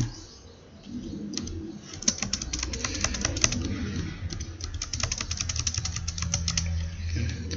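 Computer keyboard typing while Java code is written, bursts of quick, close key clicks with short pauses, over a faint background murmur.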